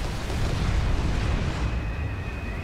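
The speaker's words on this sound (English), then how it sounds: "Oh, I'm under flail fire." Flail artillery shells exploding nearby in Planetside 2, a loud rumbling boom with dense low-end roar that swells and slowly fades over a couple of seconds.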